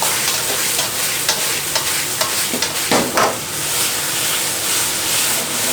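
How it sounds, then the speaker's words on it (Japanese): Pepper steak sauce with potato starch bubbles and sizzles steadily in a hot pan, with a few stirring scrapes and spoon clinks breaking through the constant frying hiss. "ちょっと煮立ってくるのを待ってくださいね"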